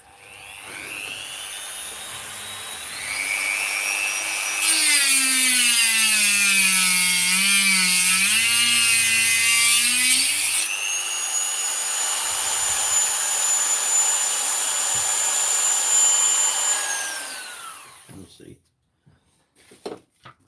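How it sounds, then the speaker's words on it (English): Dremel rotary tool cutting into a Makita battery pack, a loud high whine that rises and bends in pitch as the bit bites for several seconds, then settles and spins down, with a few knocks at the end. "We're going to start cutting with a Dremel here."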